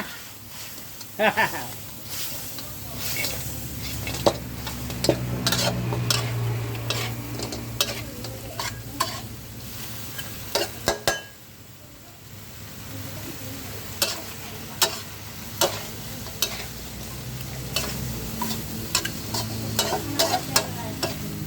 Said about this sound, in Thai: เราจะผัดแบบแห้งๆสักหน่อยนะครับ